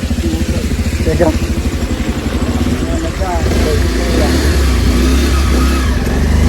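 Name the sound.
motorcycle engine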